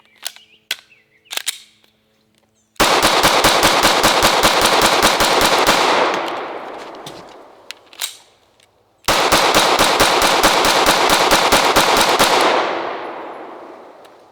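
PSA Dagger Glock-clone pistol firing two long rapid strings of shots at an outdoor range, each burst loud and sharp with a decaying echo, separated by a pause and preceded by a few scattered clicks.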